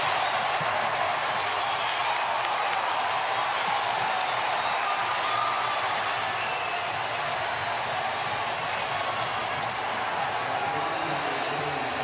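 Large crowd roaring at a college baseball game in Omaha, the Men's College World Series final between LSU and Florida, a dense, sustained cheer that holds steady for over ten seconds without letting up.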